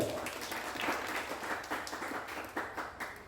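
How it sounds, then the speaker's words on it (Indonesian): Applause from a seminar audience, broad steady clapping across the whole stretch with small swells, no talk over it. "tepuk tangan untuk kita semua"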